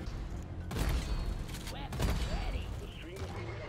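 Weapon fire in the video game Deep Rock Galactic, a loud burst of shots and rumbling booms against a Praetorian and swarm enemies, with a voice talking over the mix.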